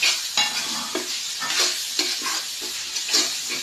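Holy basil (kaphrao) stir-fried in a hot pan, a steady loud sizzle with rhythmic scraping strokes of the spatula every half second or so, with no talking.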